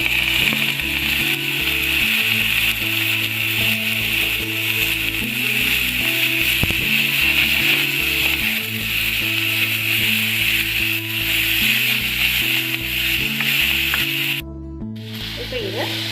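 Onions and tomatoes sizzle in hot oil in a pan for a home-made prawn masala, a steady loud frying hiss that carries on with little change, with faint clinks, until it briefly cuts out near the end.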